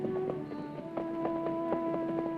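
Rhythmic clip-clop of hooves at a steady trot, with a sustained low musical tone underneath.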